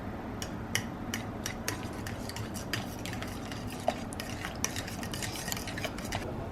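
Mashed ripe banana, vanilla and eggs mixed in a bowl for banana bread, a steady wet stirring with regular light clicks of utensil against the bowl, close, no speech.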